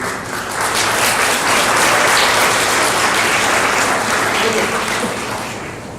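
A room full of people applauds a hospital improvement team at a report-out meeting, a loud, dense wash of clapping that swells, holds steady and slowly eases off.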